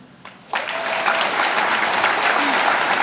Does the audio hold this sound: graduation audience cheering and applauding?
yes